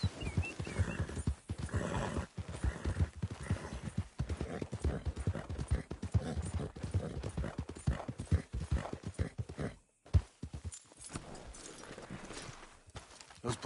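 A Red Dead Redemption 2 horse walking with a steady clip-clop of hooves close by, punctuated by neighs and snorts, then a brief pause before the hoofbeats resume more sparsely.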